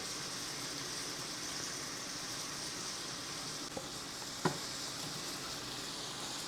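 Shrimp seasoned with salt, black pepper and garlic powder sizzling in a pan, a steady even frying hiss with a couple of faint clicks partway through.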